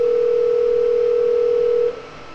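A telephone extension on an Asterisk phone system gives a single steady electronic tone during a click-to-call test, holding evenly for about two seconds and then cutting off.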